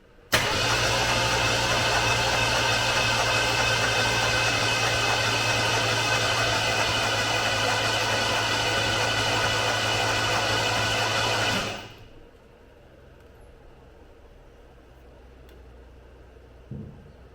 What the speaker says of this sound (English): we'll check it out when we crank the engine